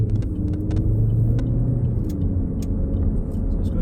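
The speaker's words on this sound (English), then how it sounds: "So let's indicate and go around this roundabout." Steady low engine rumble and road noise from inside a 2012 Vauxhall Astra GTC 1.4T SRi automatic as it drives around a roundabout, even and close, with a few faint clicks over the drone.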